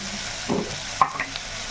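A spoon stirs chopped mutton with turmeric and salt in a pan, giving a few quick scrapes and one sharp metallic clink over a soft sizzle, close up, with no talking.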